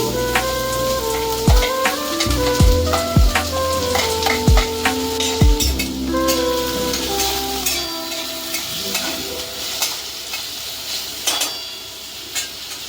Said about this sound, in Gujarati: મરચાં નાખવાના, મરચાં નાખી દઉં।